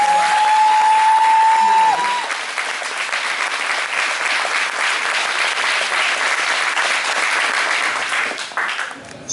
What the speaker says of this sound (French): Voilà, on peut les applaudir, allez.